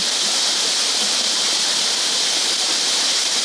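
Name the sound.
cascading waterfall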